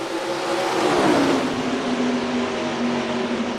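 Race cars in the NASCAR Racing 2003 video game roar on the green flag restart, a loud dense engine drone that swells and pitches down as the pack accelerates past, steady and without speech.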